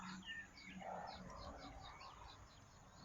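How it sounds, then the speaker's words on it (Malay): Birds chirping and calling around a rural farming homestead with coconut palms, a steady run of quick, fairly close tweets over a soft outdoor background. "Dengar bunyi burung berkicau-kicau."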